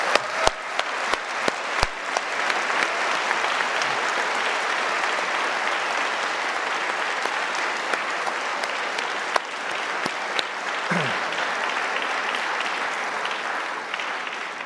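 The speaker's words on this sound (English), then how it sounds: "Graduates, a round of applause," Graduates at a university convocation ceremony applaud, a dense, sustained wash of clapping from a large crowd in a hall, steady and fairly loud throughout with a few distinct nearby claps.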